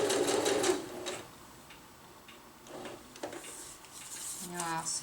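A sewing machine stitches across an underquilt protector for a hammock in short rapid bursts of ticking, fairly faint and close, between stretches of quiet and soft talk.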